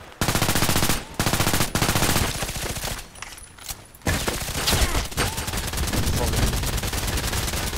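Submachine gun bursts in the Contract Wars shooter, Veresk or PDR-C, sustained rapid automatic fire with short pauses between strings, loud and close, with a faint voice underneath.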